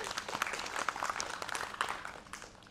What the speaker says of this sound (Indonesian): Tepuk tangan dulu buat Kak Abigail.